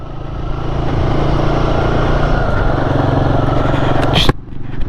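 Royal Enfield Guerrilla 450 motorcycle engine running steadily under ride, held below 4,000 rpm while running in, a loud continuous thrum with a brief sharp burst of wind or clatter near the end.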